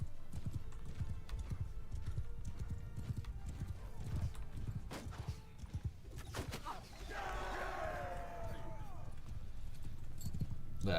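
Rhythmic hoofbeats of a galloping horse in the video game Bannerlord, with a horse whinny partway through and a voice speaking over the action.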